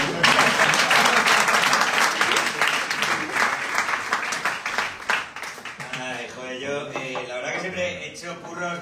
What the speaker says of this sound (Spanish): Podéis aplaudir de vez en cuando porque...